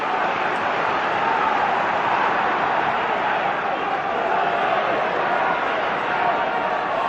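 A home football crowd roaring at a 1995 Premier League match between Coventry and Blackburn, a dense, steady stadium cheer that stays loud throughout, with a commentator speaking over it.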